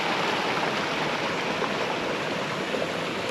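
Water pours steadily into a cave crater inside a cavern camp site, a continuous broadband rushing like a stream or small waterfall, close and constant with no voices.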